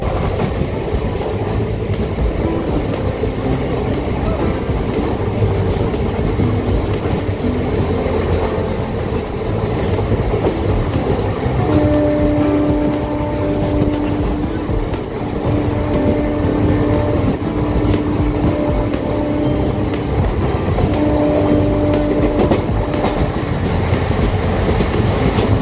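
A passenger train runs on the rails between Howrah and Midnapore, a loud, continuous rumble with rhythmic clickety-clack from the wheels and occasional tonal squeals, heard from inside the carriage with no talking.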